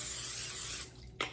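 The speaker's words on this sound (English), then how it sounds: "I'm gonna use a little bit of spray." A short hissing burst of cooking spray onto a pan, steady for under a second before cutting off, followed by a faint brief rustle.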